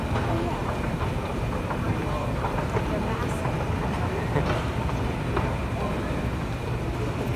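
Continuous low rumble and rattle of a subway train in a station, with faint clacking and indistinct voices in the background.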